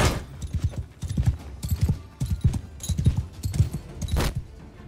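Horse hooves clip-clop in a rapid galloping rhythm as mounted troops charge in the medieval battle game Bannerlord 2, loud and continuous, with no voices over it.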